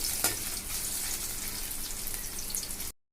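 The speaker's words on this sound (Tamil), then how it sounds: "இஞ்சி நல்லா வதக்கி விட்டுக்கலாங்க." Chopped ginger sautés in hot oil in a pan, a steady close sizzle with a sharp crackle near the start, holding evenly before stopping abruptly.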